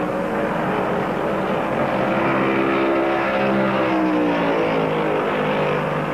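Stock race cars run at full throttle in the 1971 Southern 500, a dense, steady engine roar with a broad rumbling drone and shifting tones as the cars pass, continuous and fairly loud throughout.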